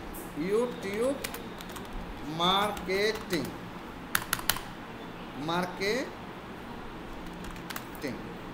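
Keys clack on a computer keyboard in short scattered bursts while someone talks in Bengali over them, the clicks sitting faint and close behind his voice.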